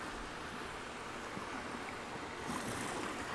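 Flowing water in the video game Zelda: Tears of the Kingdom, a steady, soft rushing wash that stays even throughout with no other sounds.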